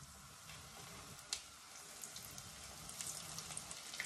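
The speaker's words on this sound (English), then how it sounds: "Now we need to cook in hot oil. All right, we're gonna fry these up now." Corn fritters frying in hot oil, a faint, steady crackling sizzle with small pops scattered throughout, heard close up with nothing else over it.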